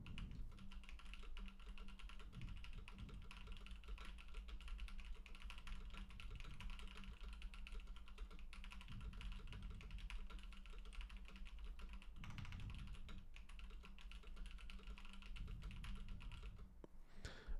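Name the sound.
typing on a mechanical computer keyboard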